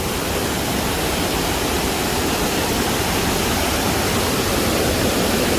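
A Tennessee waterfall roars in a loud, steady, broadband rush of falling water heard up close, unbroken throughout with no talk.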